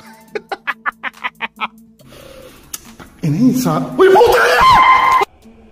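After a quick series of sharp rhythmic taps, a loud, strained human scream rises and cracks, held for about two seconds before stopping, in an abandoned hospital in Clark.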